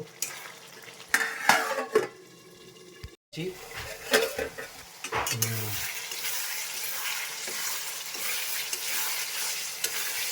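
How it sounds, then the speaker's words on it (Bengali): Chicken curry with sour curd is stirred in a pan, giving intermittent scraping and clinks of a utensil over a sizzling fry, with a short pause partway through. "এখন একটু নেড়ে ছেড়ে আবার ঢেকে দিব।"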